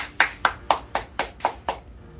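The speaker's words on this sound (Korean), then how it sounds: "박수 한번 주세요." A small group claps in a steady rhythm of about seven sharp, close claps over two seconds, celebrating a company's IR52 Jang Young-shil Award in an indoor setting, with no talking.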